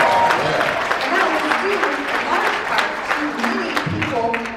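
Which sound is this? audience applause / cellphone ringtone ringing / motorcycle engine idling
audience applause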